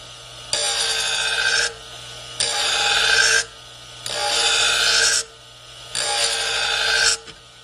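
Pinking shears blade ground against a sharpening wheel in four loud, bright rasping passes of about a second each, separated by short quiet gaps and a low steady hum.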